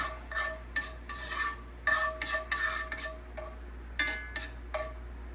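A utensil scrapes and clinks in a pan, stirring lemon butter sauce meant for baked chicken thighs, in short irregular bursts of close rasping strokes with a low hum behind.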